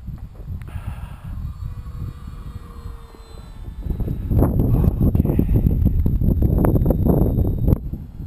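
An EFX Racer radio-controlled model plane flies overhead, its engine a steady buzzing drone that swells louder midway, with wind rushing across the microphone.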